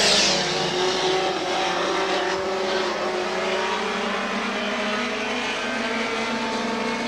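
Stock cars racing at Star Speedway in 1991, a loud, continuous engine roar with droning, slowly shifting pitch as the pack circles nearby, no voices over it.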